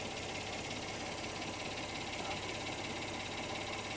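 A 2017 Acura MDX engine idling, a steady even hum with a faint ticking texture, constant and fairly quiet with no change in pitch across the few seconds.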